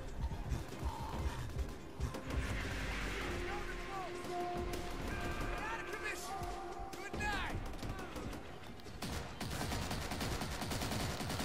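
Gunfire and explosions in the Call of Duty: World at War mission Hard Landing, an airfield battle against Japanese forces, with dense continuous shooting, crashes and whistling effects, under occasional voices.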